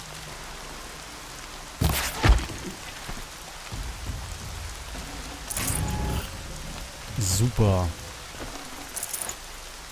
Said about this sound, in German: Der Regen stört ein bisschen gerade.